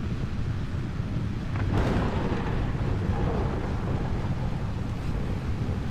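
Rocket engine launch in Kerbal Space Program, a steady loud low rumble with a brief rising burst near two seconds, heard alone without talk.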